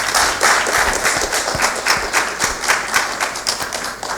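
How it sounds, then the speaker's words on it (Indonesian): Wedding guests at a church holy matrimony ceremony break into sustained applause, a dense wash of many hands clapping at steady strength for several seconds with no talking over it. "Kita beri tepuk tangan dulu ya."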